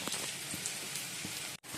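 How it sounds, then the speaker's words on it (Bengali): Heavy rain pours down steadily, a dense, continuous hiss of drops striking surfaces nearby that cuts out briefly for a moment near the end. "এদিকে দেখো খুব বৃষ্টি পড়ছে এদিকে"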